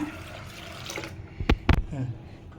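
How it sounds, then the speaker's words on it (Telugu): Water runs and splashes briefly into a cooking pot holding masoor dal, with a couple of sharper pours and clinks near the end. "సరిపోయిన వాటర్ తీసుకుంటున్నా"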